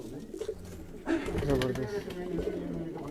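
Pigeons cooing on a rooftop in Quetta, low rolling coos close by, joined by someone talking over them partway through.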